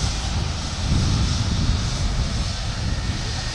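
An Icelandair Boeing 757 jet at Manchester Airport produces a steady, loud engine roar with heavy low rumble and broadband noise for the whole stretch, without pause.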